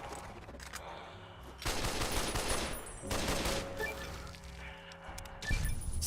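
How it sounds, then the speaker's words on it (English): An automatic rifle fires in Fallout New Vegas: several sustained bursts of rapid gunfire, separated by short pauses, fairly loud and close, with no talk over them. "I'm gonna try the automatic rifle."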